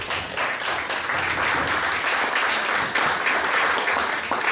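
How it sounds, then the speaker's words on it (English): A community audience at an evening local event gives a steady, continuous round of applause, a dense wash of many hands clapping at even loudness for several seconds with no talk over it. "That deserves a round of applause."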